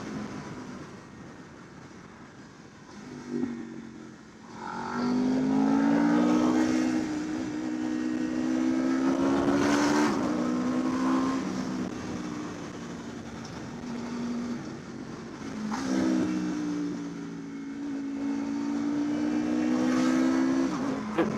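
An Aprilia RSV4 Factory 1100 sport motorcycle drones and revs through several gears in Malibu, its exhaust note rising and dropping in long sweeps, steady and fairly close.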